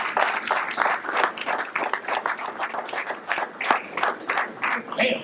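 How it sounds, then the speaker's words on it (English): A mosque congregation in Los Angeles applauds with steady, dense clapping, a few sharper claps cutting through. "Give them a round of applause."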